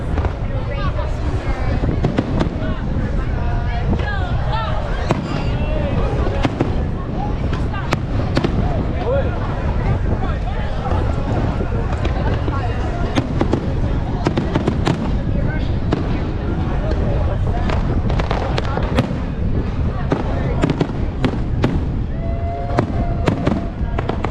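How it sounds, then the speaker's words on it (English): Continuous bursts of Fourth of July fireworks in Atlantic City crackle and pop for a long stretch, some sharp booms among them, with crowd voices and chatter underneath. "every Saturday, they do a firework"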